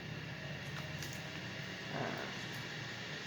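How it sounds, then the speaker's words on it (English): An air fryer runs after being switched on to cook rice falafel balls, giving a steady, even whooshing fan hum that continues throughout with no other clear sounds. "that noise in the back is the air fryer, which I just put on."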